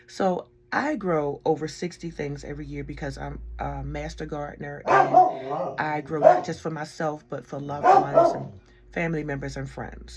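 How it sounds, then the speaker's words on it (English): A dog barks now and then in the background of a home garden lesson, faint and partly masked under steady nearby speech from a gardener. "Excuse my dog in the background."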